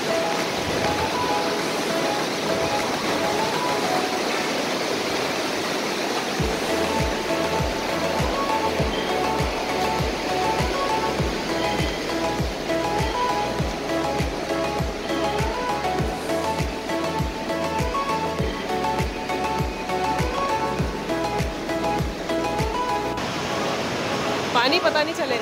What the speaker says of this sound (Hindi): ये अलकनंदा नदी है और यहाँ इसी की आवाज़ रात को आ रही थी आपको,